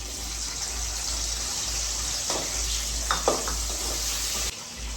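Small onions fry in a pan with a steady, loud hiss and sizzle throughout, joined by a few brief clinks near the middle before the sound drops off abruptly at the end.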